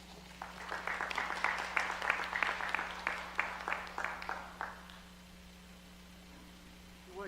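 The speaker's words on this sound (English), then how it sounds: "We'll give our speakers one more round of applause." Audience applause at a presidential symposium panel, a few seconds of scattered, moderately loud claps from a seated crowd that fade out halfway, leaving a quiet room hum.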